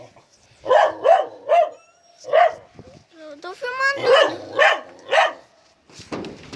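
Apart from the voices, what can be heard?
dogs barking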